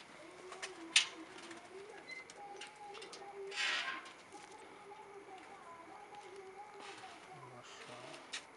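Pigeons at a breeder's pigeon show coo softly in a quiet outdoor setting, low murmuring calls scattered through the stretch with a couple of sharp clicks and faint background noise.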